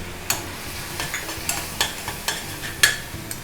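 Cumin, ginger and green chili paste frying in hot oil, with steady close sizzling and a run of sharp crackles and pops.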